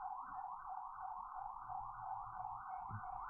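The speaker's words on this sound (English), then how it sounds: "Sirens are coming." Emergency vehicle sirens wailing in a steady rising and falling cycle, faint and distant, with a soft low background rumble and no speech.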